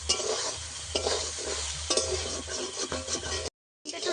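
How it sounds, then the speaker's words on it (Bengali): Soybean chunks fry in oil with salt and turmeric, giving a steady close sizzle broken by rhythmic scrapes of a stirring spoon about once a second, then a brief drop to silence before the frying picks up again. "সয়াবিনগুলো আমি ভালো করে ভেজে নেব।"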